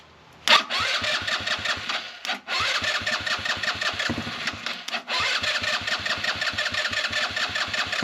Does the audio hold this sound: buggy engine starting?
yes